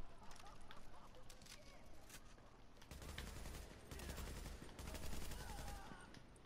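An RPK machine gun fires in bursts in the video game The Division, the rapid shots quiet and crackling under a dense layer of ambient noise.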